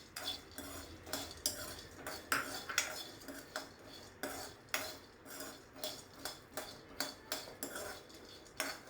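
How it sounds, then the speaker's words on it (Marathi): Peanuts dry-roasting in a pan, stirred with a steady rhythmic scraping and rattling roughly twice a second, close and fairly quiet with no sizzle. "आता हे शेंगदाणे इथे भाजतायत"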